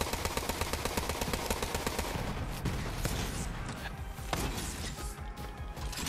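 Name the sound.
gunshots in video game Borderlands 3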